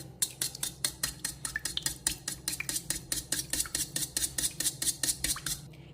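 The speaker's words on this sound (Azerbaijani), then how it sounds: "Üzərindən də yarım stəkan su əlavə edirəm, adi su. Qarışdırırıq." Water being stirred into a mixture in a bowl, a fast regular run of utensil scrapes and clinks against the bowl, about four to five strokes per second, close and clear with no voices.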